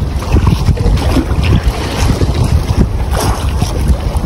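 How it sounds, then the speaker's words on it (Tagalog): A strong south wind buffets a fishing boat at sea, loud and continuous roaring wind noise over the microphone with sloshing water and engine rumble beneath, no talking. "Grabing lakas ng timog."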